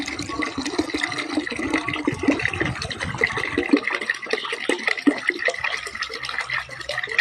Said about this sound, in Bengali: এর ভেতরে আমি আরও 15 লিটার পানি অ্যাড করব।